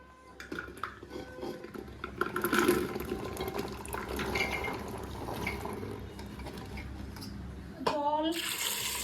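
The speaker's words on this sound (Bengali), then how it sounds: "জল দিয়ে দেবো, পরিমাণ মতো লবণ দিয়ে দেবো, এটাকে সিদ্ধ করে নেবো।" Water pours into a pot of chickpeas being boiled for chana masala, making a steady, fairly faint splashing flow that grows slightly louder near the end, with a brief metallic clank.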